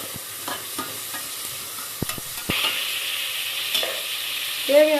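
Chopped tomatoes and onions fry in a pan for a brinjal gravy, a close sizzle broken by sharp spoon clicks and scraping strokes as they are stirred, no speech.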